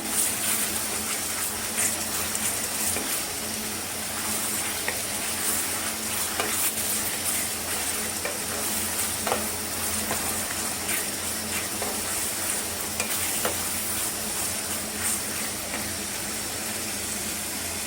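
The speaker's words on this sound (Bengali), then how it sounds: "পেঁয়াজটা হাফ পেঁয়াজ ভাজা হলো।" Onions frying in a pan for chicken kosha sizzle steadily and close throughout, with repeated scraping and clicking from stirring against the pan.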